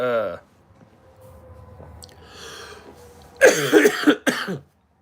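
A voice at the start, a stretch of quiet background, then a couple of harsh, close coughs in quick succession near the end.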